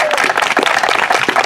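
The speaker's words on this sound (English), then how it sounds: "I will give a round of applause." Audience applause at a council candidate forum held in a private home, a steady wash of clapping from a small gathering that runs loud and continuous throughout.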